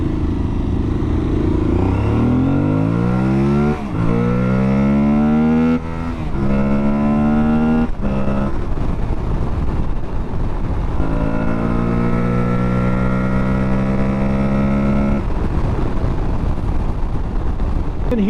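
An Aprilia Tuareg 660 parallel-twin motorcycle cruising at about 75 mph on the highway, its engine intake droning loud and close in a steady hum that rises through the gears, with heavy wind buffeting over the top.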